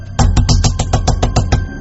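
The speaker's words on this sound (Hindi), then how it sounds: "तभी हमने बाहर से दरवाजा पीटना शुरू किया।" Someone bangs on a door from outside in a Hindi horror drama: about ten rapid, loud, evenly spaced knocks in a quick burst lasting under two seconds.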